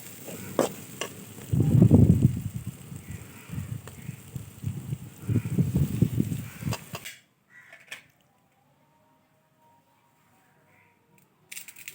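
Okra (bhindi) fry sizzling in a pan as a spoon stirs and scrapes it in bursts for about seven seconds, then the sound cuts to near silence with a faint click at the end.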